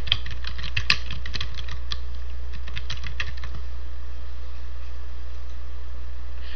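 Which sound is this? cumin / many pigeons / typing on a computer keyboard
typing on a computer keyboard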